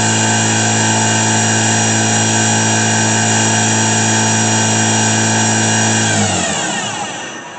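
Spindle of a Daewoo Lynx 200A CNC turning center with Fanuc 21T control, a steady high whine at speed that drops sharply in pitch near the end as it slows down.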